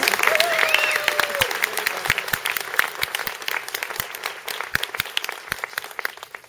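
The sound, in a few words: audience applause for Dr. Lynette Gillis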